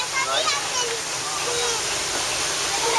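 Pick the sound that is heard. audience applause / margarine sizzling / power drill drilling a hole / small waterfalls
small waterfalls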